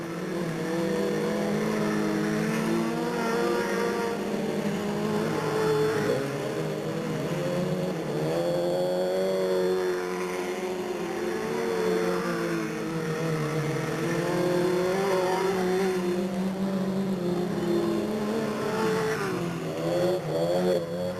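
Race cars roar around Delta Speedway in Stockton during a 1997 race, several engines droning together with pitch swelling and falling as they pass, loud and continuous with no talking.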